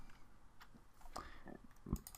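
Computer keyboard keys, including arrow keys, pressed during drawing software work, a few faint scattered clicks with one sharper tap near the end.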